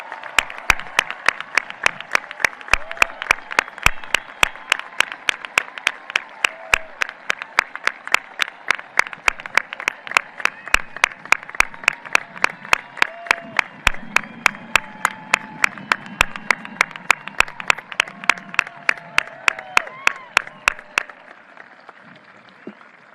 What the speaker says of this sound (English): Can I get a round of applause for all of our graduates?